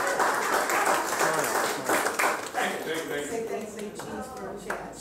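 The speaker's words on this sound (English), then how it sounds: "Please, everybody, big round of applause." Audience clapping at a presentation in a Vasa lodge hall, a moderately loud burst of applause mixed with voices and cheering that gradually thins out toward the end.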